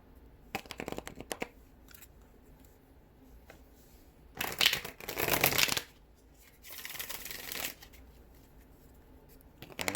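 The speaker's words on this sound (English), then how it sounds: "Still one more shuffle." Tarot cards are shuffled in several bursts: quick riffling and rustling near at hand, with short pauses between rounds and no speech.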